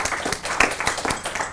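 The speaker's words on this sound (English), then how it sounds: "I think that deserves a round of applause." Audience applause at an art prize winners announcement for the Mosman Art Prize, a municipal art award in Australia; scattered, moderately loud clapping runs throughout the short stretch without a strong roar.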